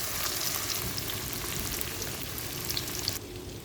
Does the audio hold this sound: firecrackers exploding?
no